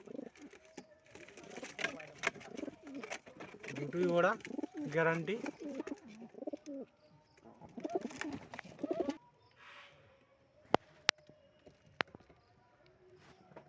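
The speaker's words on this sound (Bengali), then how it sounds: "এটা নর পায়রা।" Madrasi pigeons, a male and female pair kept for sale, coo in a few close, soft bursts, with a person talking nearby.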